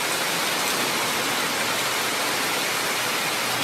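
Heavy rain pours steadily during flooding in eastern Brazil, a dense, loud and unbroken roar of water with no gaps and no voices heard.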